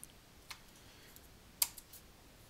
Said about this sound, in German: mit Enter bestätige ich